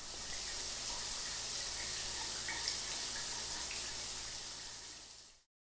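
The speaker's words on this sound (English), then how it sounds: "one more rinse in the shower and we are back" Shower water streaming steadily while hair is rinsed, a loud continuous hiss and splash close by, then cutting off abruptly near the end.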